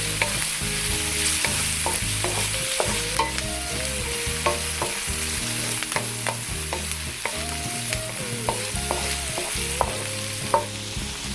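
Chopped onion, garlic and ginger sizzle in a hot pan for tuna adobong paksiw, with a spatula scraping and clinking in irregular strokes over the constant close frying hiss. No one speaks.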